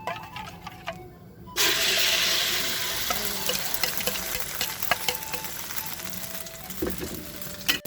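Steady sizzling and crackling of food frying in a hot pan starts abruptly and continues throughout, with occasional clinks and stirring sounds.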